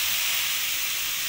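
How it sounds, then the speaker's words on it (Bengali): Cauliflower frying in hot oil and being stirred in a pan, giving a loud, continuous sizzle with a faint scrape at the very end. "নুন দিয়ে ভালো করে ফুলকপিটাকে ভেজে নেব একটু"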